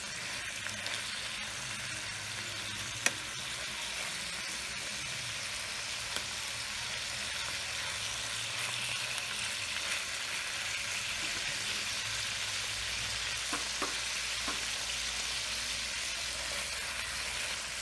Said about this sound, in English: Then saute shrimps for a few minutes until it turns pink.